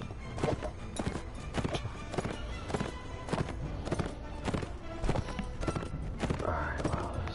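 Horse hooves clip-clop steadily through a Mount & Blade: Warband game scene, a close, loud and regular beat that continues over busy background game sound for the whole stretch.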